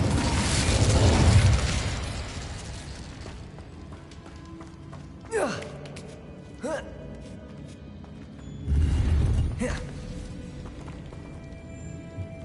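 The Incendio fire spell from Hogwarts Legacy goes off as a strong whooshing burst. A second swell follows later, with brief swishing spell effects in between and a low voice speaking in places.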